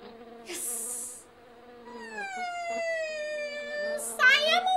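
Buzzing fly sound effect in a storytelling monologue: a high insect whine rises and falls in pitch over several seconds, fairly close, with brief bursts of hiss at the start and near the end.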